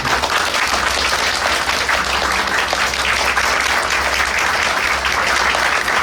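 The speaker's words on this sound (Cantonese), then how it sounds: "咁我哋一定要俾掌聲我哋嘅作者曾啟良老師。" Sustained applause from an audience at a Cantonese-language book launch for a new book, honoring its author; steady, dense clapping fills the room continuously without pause, with no speech over it.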